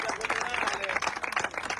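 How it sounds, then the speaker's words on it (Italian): A crowd claps for a group of loyal supporters, one holding a smoke flare, in a short burst of dense, steady applause with a voice speaking over it. "un applauso a loro, sempre presenti"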